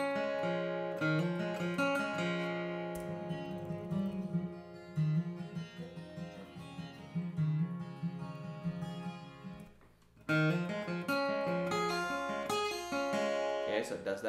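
Fingerpicked acoustic guitar intro figure for a song, played with a capo and hammer-ons, a steady arpeggiated pattern of plucked notes with a brief pause near ten seconds before resuming.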